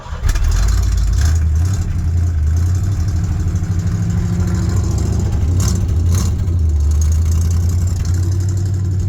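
A 1981 Ford Bronco engine runs steadily just after a cold start, a loud, close, continuous low rumble with slight rises and dips in revs, with no talking.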